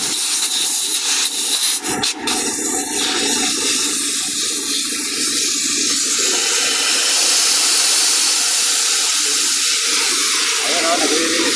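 An Isuzu 6WF1 truck's air dryer, with a faulty air governor, purges loudly, releasing a continuous, forceful close hiss of compressed air and expelled water that swells toward the end.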